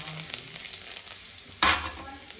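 Garlic dropped into hot oil for tempering spinach bhaji, a soft steady frying hiss with a sudden louder sizzling burst partway through, close by and without talk.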